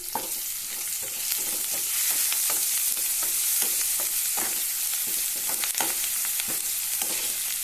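Garlic and ginger fry in hot oil for an Assamese fish curry, a steady loud sizzle punctuated by repeated stirring scrapes and clinks of the utensil against the pan, with no voices.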